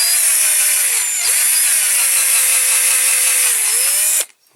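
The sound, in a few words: power drill drilling out a rivet on a Dinky Toys model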